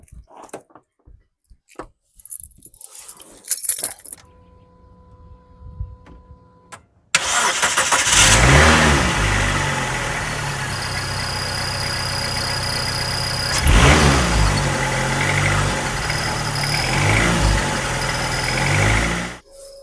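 After a few clicks and a key-on chime, a Dodge Neon's engine with a newly replaced battery cranks briefly and catches, then settles into a loud, steady idle close to the microphone with a couple of small revs.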